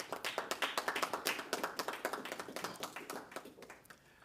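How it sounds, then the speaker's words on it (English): A small group applauds at a government press conference, with distinct, fairly quiet claps in a quick rhythm that taper off toward the end. "give a round of applause to the head table and the team that supports them"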